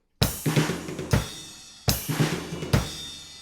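Drum kit fill played twice for a beat: a crash opening each pass, then sharp snare hits and deeper tom hits, loud and close with no voice.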